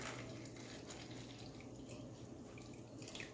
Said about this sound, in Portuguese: Agora nós vamos acrescentar o leite